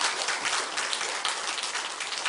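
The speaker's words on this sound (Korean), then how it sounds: "박수 한번 칠까요? 그분들을 위해서." A church congregation claps together in a Sunday service, dense steady applause filling the room, loud and sustained without pause.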